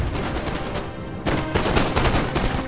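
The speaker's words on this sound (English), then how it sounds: "We're still shooting, aren't we?" Cannon and musket gunfire in the Napoleon: Total War battle game, a dense continuous barrage of overlapping shots that swells louder partway through, with no voices.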